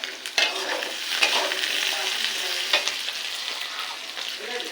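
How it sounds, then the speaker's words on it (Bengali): Sliced potatoes with small fish frying in a pan, a continuous bright sizzle with spatula scrapes and stirs every second or so, close up and steady, with no talking. "একটু ভেজে নেব।"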